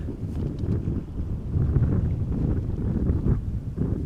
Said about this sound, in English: The wind is picking up just a little bit.